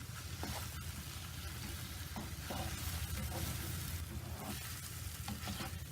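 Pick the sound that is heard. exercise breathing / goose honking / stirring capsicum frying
stirring capsicum frying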